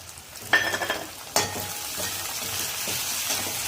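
Peas tipped into a pan of spiced samosa filling with grated ginger, giving a couple of sharp clatters followed by a steady close sizzle and light scraping stirs.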